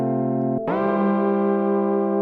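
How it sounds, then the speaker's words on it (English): Nymphes synthesizer playing a sustained chord through its built-in reverb, a brief dip before the tone swells back fuller and washed, ringing on steadily. "It's got the inbuilt reverb in the Nymphes as well,"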